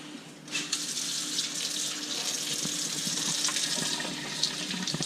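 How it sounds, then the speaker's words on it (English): Tap water runs steadily into a sink while sea trout fillets are rinsed under it, a close, continuous splashing hiss with small shifts as the fish moves through the stream. "all I'm doing is just rinsing them off"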